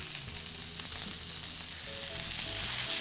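Steaks sear in a hot stainless steel skillet, giving a loud, continuous, crackling sizzle with no voices.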